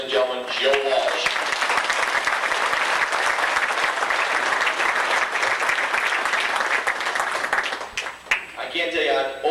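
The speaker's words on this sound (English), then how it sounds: "Give him a nice round of applause, ladies and gentlemen, Joe Walsh." A banquet audience at a 1992 racing awards dinner breaks into sustained applause for an American Modified champion, a thick, even clapping roar that fades near the end as a voice briefly returns.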